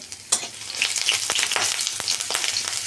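Chopped garlic frying in a pan over low to medium flame for a Bata fish curry, a steady close crackling sizzle with a few sharper pops and stirring scrapes, no voices.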